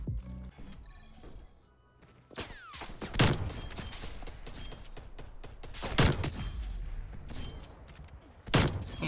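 Gunfire in the shooter game Call of Duty Cold War, Search and Destroy mode: sharp, loud shot bursts at irregular intervals over game sounds and mechanical clatter, close and punchy.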